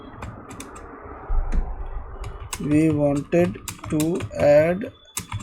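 Computer keyboard keys clack in quick irregular bursts, close and crisp, while someone speaks Hindi over much of the typing.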